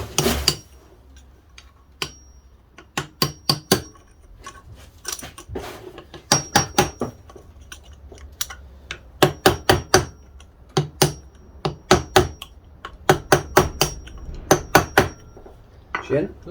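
Repeated sharp metallic hammer strikes on a part of a VW Golf / Audi TT 02M six-speed gearbox, in quick clusters of three to five blows, loud and close, with brief pauses between bursts.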